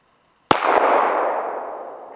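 A single loud gunshot at an outdoor shooting range, a sharp sudden crack followed by a long, slowly fading echo, with no talking.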